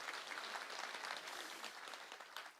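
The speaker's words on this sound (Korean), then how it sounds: "박수 한번 드리겠습니다" Steady audience applause fills the space, a dense wash of many hands clapping at a lecture on brain education, with no voices over it.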